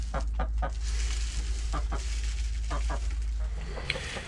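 Several short hen clucks come in small bursts from the laying corner of a chicken coop over a steady low background hum, moderately close, with brief pauses between the groups.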